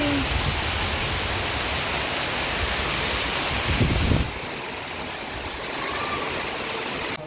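Dense, steady roar of heavy rain with very large drops pouring down, loud and close, then it eases to a quieter wash for the last few seconds.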